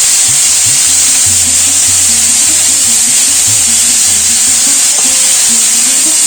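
Banana flower frying and being stirred in a pan with salt and turmeric for a Bengali dish served alongside oil koi fish and prawns; a steady loud sizzle runs throughout with repeated scraping stir strokes, no talking.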